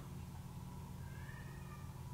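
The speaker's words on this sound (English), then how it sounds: "This cat is still meowing." A cat meows faintly in the background of a room, one drawn-out call rising above a steady low hum with no talk over it.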